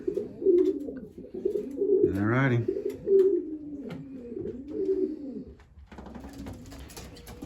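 Racing pigeons coo in a loft, a steady rhythm of low, repeated rolling coos that carries on throughout, with a few brief words spoken over them and a rustling shuffle near the end.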